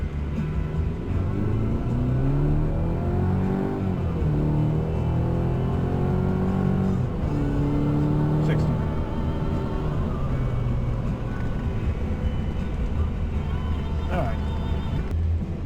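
A 2023 Chevy Colorado ZR2 Desert Boss pickup accelerates hard along a flat, straight road, its engine note rising steadily and loud throughout, heard from inside the cab.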